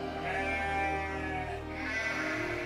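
Sheep grazing heathland in the Elbe-Mulde lowland of Saxony bleat continuously in overlapping, wavering calls at moderate distance, with no other sounds over them.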